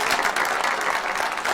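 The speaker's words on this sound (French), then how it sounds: "Maximum d'applaudissements s'il vous plaît pour Mémé Ono." An audience gives Mémé Ono a maximal round of applause, a brief, dense, fairly close burst of clapping lasting about a second and a half with no voices on top.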